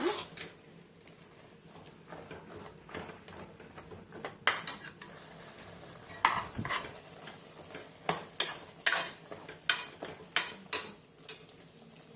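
Masala roasting in a pan for a chickpea curry, with a spoon repeatedly scraping and clinking against the metal over a light sizzle, the clinks growing more frequent and rhythmic toward the end.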